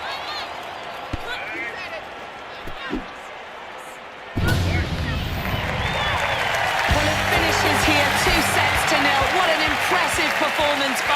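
In the London 2012 Olympics video game, a stadium crowd roars and claps after a tight match, rising suddenly from quiet to a loud, sustained swell, with a commentator's voice underneath.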